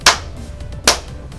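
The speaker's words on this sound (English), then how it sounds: "2 claps." Two sharp hand claps, loud and close, spaced under a second apart over a quiet background.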